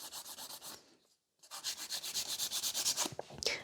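Rhythmic rasping strokes of a file smoothing the surface of a gel stiletto competition nail, close and steady, with a brief pause before the strokes resume at a quicker pace.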